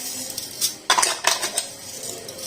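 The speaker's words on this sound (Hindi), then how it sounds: "इस क्रीम में 2 टेबलस्पून चीनी डालूंगी" A spoon clinks and scrapes against a bowl as sugar is added to cream for cold coffee, giving a few quick metallic taps and a short cluster of louder clatters, close and alone.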